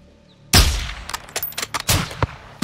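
Gunfire in the Call of Duty Modern Warfare II video game opens with one sharp, loud report. A rapid scatter of further shots and cracks follows, close and punchy, over a couple of seconds.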